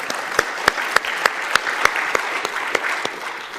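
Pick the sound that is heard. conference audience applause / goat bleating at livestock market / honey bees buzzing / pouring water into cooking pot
conference audience applause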